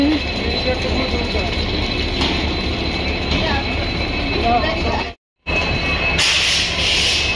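Busy ambience at Bongaigaon railway station in Assam, with a steady rumble of trains and mechanical noise, murmuring voices underneath and a brief cut to silence.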